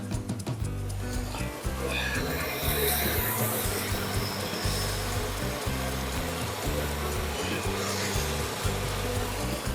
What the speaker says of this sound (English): I'm going to turn on the fan.